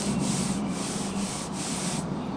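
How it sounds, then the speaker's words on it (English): Body filler on a Tesla quarter panel is sanded by hand in a close, continuous gritty rasp, with a steady back-and-forth rhythm and no talk. "This doesn't sand as easy as I expected at all."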